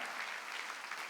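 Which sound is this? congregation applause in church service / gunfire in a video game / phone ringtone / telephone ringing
congregation applause in church service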